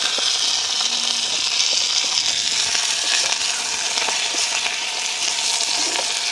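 Onion, green chili and curry leaves fry in hot oil with a loud, steady, close sizzle that hisses continuously throughout, with no voices.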